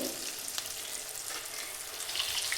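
Potato bonda balls frying in hot oil, a steady close sizzle and crackle that holds even throughout with no talking.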